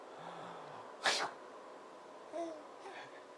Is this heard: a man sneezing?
yes